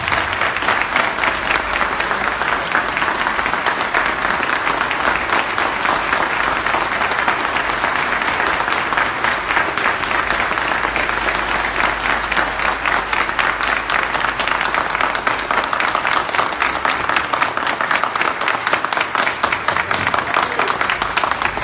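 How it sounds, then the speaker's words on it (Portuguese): A large lecture audience gives a warm, sustained round of applause for the speaker, dense and even clapping from many hands that carries on steadily for over twenty seconds without talk. "peço mais uma calorosa salva de palmas como forma de agradecimento"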